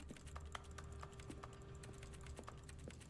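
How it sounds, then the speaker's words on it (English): Keyboard typing clicks from The Stanley Parable play as in-game sound effects, a steady, soft run of quick keystrokes over a faint constant hum. "the game literally inputs, like, typing sound effects when you click"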